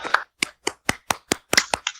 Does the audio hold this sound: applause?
yes